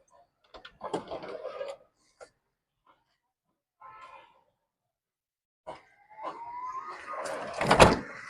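A 2010 Suzuki Bolan van door creaks and rattles open, followed after a pause by further clunks and a rising scrape as it is worked shut, close by.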